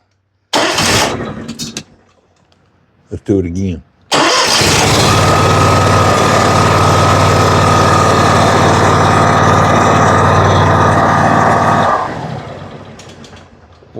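A Scag lawn mower's small engine sputters briefly, is pulled again, then catches and runs steadily at a loud, even drone for several seconds before cutting off. A voice speaks briefly.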